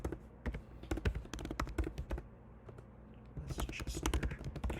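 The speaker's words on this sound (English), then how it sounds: "I'm going to type in the appropriate counties that we're targeting" Someone types on a computer keyboard, a quick run of close clattering keystrokes with short pauses, then a denser burst of typing near the end.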